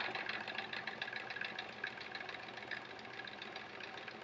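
A sewing machine runs steadily while free-motion quilting freehand circles, giving a fast, even mechanical chatter that is faint and continuous with no pauses or voices.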